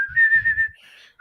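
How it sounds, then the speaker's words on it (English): A person whistles a tune along with music in a podcast setting, a clear sustained melody up close with a short pause before the next note begins. "Just whistle along, folks."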